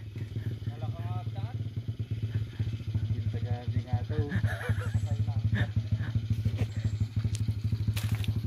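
A small dirt trail motorcycle engine chugs close by on a mountain trail in Baguio Benguet, a rough rhythmic putter revving in bursts, with people talking over it.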